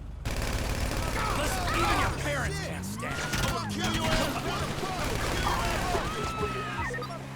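Chaotic exchange of gunfire in Grand Theft Auto V, bursts of shots and crashes layered over engine and city noise, with talk mixed in throughout.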